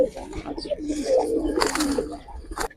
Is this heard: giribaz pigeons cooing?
yes